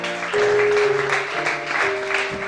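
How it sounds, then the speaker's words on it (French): A church congregation applauds, a dense clatter of hands, moderately loud and near, mixed with sustained tones that rise and fall over about two and a half seconds. "Acclame ça."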